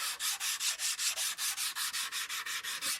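Steel spoon knife honed along its inside bevel to remove the burr, a steady run of about fifteen quick, even rasping strokes, close and alone.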